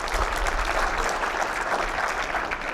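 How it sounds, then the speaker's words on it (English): A room of workshop attendees breaks into steady, moderately loud applause at a facilitated event, the clapping continuous and even throughout. "round of applause if you found value in the workshops?"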